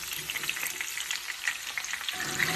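Okra frying in a pan for vendakka masala, a steady close sizzle with occasional scraping stirs and crackling pops throughout, no voices.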